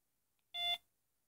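A Motorola MicroTAC 650E cellular phone gives a single short electronic beep when its charger is plugged in, a faint, clean tone lasting a fraction of a second in otherwise silent surroundings.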